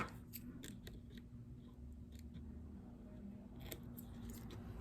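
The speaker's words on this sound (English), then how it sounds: "I'm just gonna trim it." Scissors snip magazine paper for a collage notebook, several quick close crisp cuts in two short bursts over a quiet room hum.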